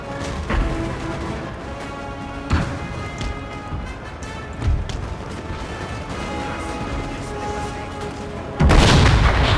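Booming musket volleys and artillery fire from a Napoleonic-era battle in the strategy game Napoleon: Total War, several sharp reports spaced a couple of seconds apart over a continuous din of battle, with a heavier crash at the end.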